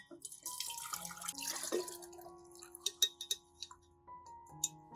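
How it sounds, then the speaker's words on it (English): An aloe vera and chamomile tea mixture is strained, heard as a trickle of liquid followed by scattered drips and small taps, fairly quiet and close, with no talk. "I strain out the residue, keeping the nutrient-rich liquid."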